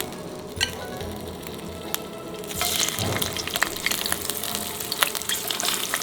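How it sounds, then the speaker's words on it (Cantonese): Shrimp pan-fried for a winter melon soup with white clams give a low crackle that swells into a busier, louder sizzle after a couple of seconds, dotted with small clicks and pops, with no voices. "第二個步驟，我哋就將啲蝦煎香佢。"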